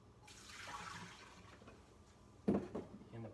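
White vinegar poured into a pot for pickled eggs: a faint trickling liquid stream followed by a short louder splash and gurgle, quiet and close.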